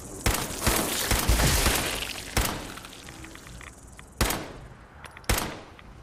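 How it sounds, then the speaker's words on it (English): Gunfire in the video game Fallout 4 rattles in a dense burst, then single loud shots follow at spaced intervals against a quieter background. "I hear gunfire."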